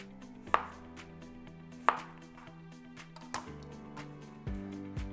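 A knife cuts zucchini into thick chips on a cutting board, with four or five sharp, close chops at uneven intervals over low background hum, no talking.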